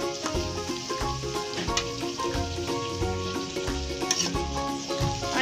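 Onions frying in a pan for a fried onion and tomato chutney, a steady dense sizzle with spoon scrapes and stirring clatter throughout, close and fairly loud with no talking.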